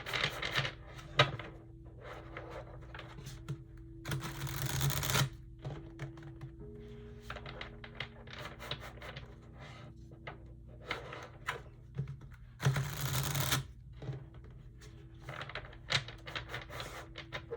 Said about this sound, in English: I'm going to shuffle these a few more times.